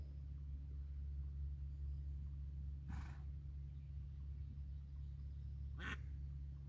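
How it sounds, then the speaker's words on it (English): A mother duck quacks twice outdoors, each call short and fairly faint, about three seconds apart, over a steady low rumble of background noise. "Momma Duck just came flying in."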